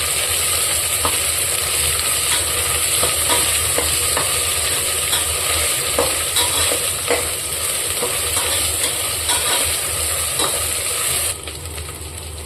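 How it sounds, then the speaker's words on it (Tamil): Onions and spices frying in a pan for fish ball biryani: dense, continuous loud sizzle with rapid scraping and clicking strokes of a spoon, close up, easing slightly near the end, no talking. "நல்லா இந்த பச்சை வாசனை போக வரணும் நல்லா நல்லா வதக்கிக்கலாம்"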